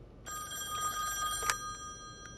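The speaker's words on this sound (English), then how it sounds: "Got a phone call? I have to get that." A telephone rings in the video game The Wolf Among Us with a bright, sustained electronic bell tone that starts sharply and holds steady, loud and close, with no talking over it.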